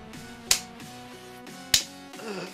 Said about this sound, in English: I was actually clapping so hard